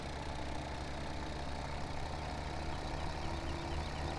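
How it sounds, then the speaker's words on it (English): A steady, rattling Perkins diesel tractor engine in the video game Farming Simulator 17 idles continuously at close range, a dense low mechanical chug with no pauses. "The rattle of the Perkins."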